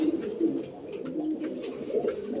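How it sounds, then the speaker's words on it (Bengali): Raj-golla and coloured pigeons coo at a crowded pigeon fair. Low, rolling coos repeat steadily and overlap each other throughout, close and moderately loud. "এখানে আরো একজোড়া কবুতরের কালেকশন রয়েছে"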